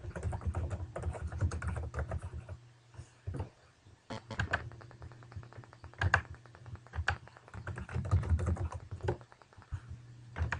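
Keyboard typing while details are entered into an expense report, with bursts of rapid key clicks separated by short pauses, close and fairly quiet, with no speech.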